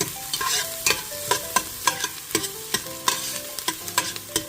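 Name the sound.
onions frying and being stirred for keto seafood chowder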